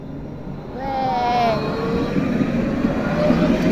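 A T3 tram in a city street pulls away from a stop, a rising electric motor whine sweeping upward over steady low rumble and traffic noise, with people talking nearby.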